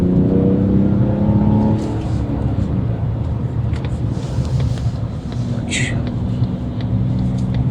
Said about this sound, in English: I am going to have to really accelerate up to speed.